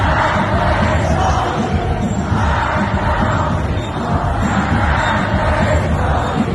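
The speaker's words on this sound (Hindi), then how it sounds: "इस भीड़ के अंदर ट्रंप से बदले की नारेबाजी यहां पर लग रही है" A vast funeral crowd for Ali Khamenei chants slogans of revenge, a dense, steady roar of many voices rising and falling in waves throughout.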